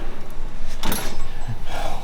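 A metal drawer on a Mac Tools three-drawer tool box slides open with a brief rattling scrape and clink of tools inside, close and fairly loud in a quiet room.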